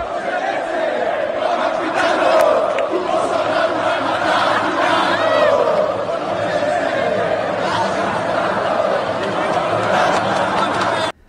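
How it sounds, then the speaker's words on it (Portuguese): Crowd of Atlético Mineiro football supporters chanting in unison in a stadium during a 0-0 derby against Cruzeiro, a loud, sustained, rhythmic roar of many voices running throughout and cutting off abruptly at the end. "olha só o que cantaram parte dos torcedores do Atlético Mineiro"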